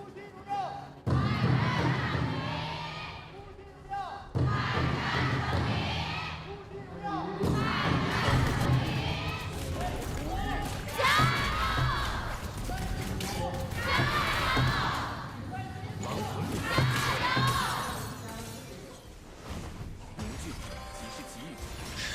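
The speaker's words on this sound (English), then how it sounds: "Let's hear the crowd and what they have to chant." Crowd at an esports arena during the KPL Grand Finals knockout stage, a Honor of Kings match, roars, cheers and chants loudly and continuously, with rhythmic swells and crashes of noise that fill the hall.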